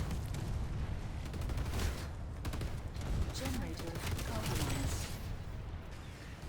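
Rapid heavy assault weapon gunfire from the Planetside 2 video game, a dense continuous stream of shots under layered game noise and talk.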